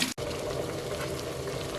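Water boiling in a pot with beef short ribs for galbitang, a steady bubbling roil that runs throughout after a brief dropout at the start.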